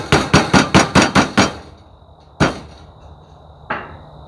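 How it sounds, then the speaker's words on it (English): A small hammer strikes cut metal fascia to flatten it, a close, loud run of about eight rapid ringing blows, then two single hits after pauses, each leaving a brief metallic ring. "I also use a little hammer just to kind of flatten it back out again"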